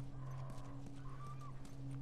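A horse in The Last of Us, with soft hoof clip-clops and a faint, brief whinny over a steady low hum, heard alone without talk.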